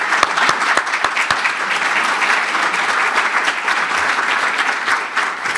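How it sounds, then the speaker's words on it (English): An audience at a Torrance youth sports Wall of Honor dedication claps in a steady, dense round of applause that holds throughout, with a few sharp individual claps standing out near the start. "Let's give John a round of applause"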